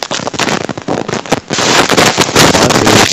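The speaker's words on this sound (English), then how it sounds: "Look at that secondary explosion." Dense booming blasts and crackling roar from a car crash explosion in played footage, a sharp burst followed by a sustained, louder secondary eruption that fills the second half with noisy rumble.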